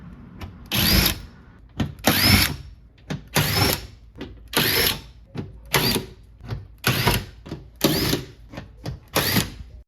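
Power tool loosening and removing 10mm bolts from the metal plate inside the rear hatch of a first-generation Toyota Sequoia, in a series of repeated short whirring bursts with brief pauses between them, close and fairly loud.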